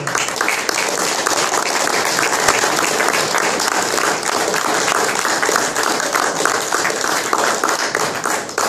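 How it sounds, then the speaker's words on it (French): Loud, sustained applause from an audience at a talk, many hands clapping in a dense, even roar without pause. "Alors je vous demande d'applaudir Patrick Aram pour cela."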